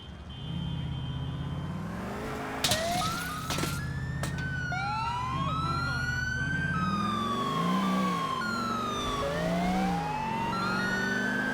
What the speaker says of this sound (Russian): Звук сирены меняется в зависимости от повреждения сирены.